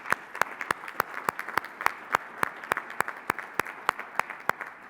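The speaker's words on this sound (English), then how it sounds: "let's give a round of applause to the hotel and AV staff for their support and service" Audience applause for hotel and AV staff at a 2019 digital quality summit, a steady patter of claps with sharp individual hand claps standing out at a regular rhythm, moderately near and without talk.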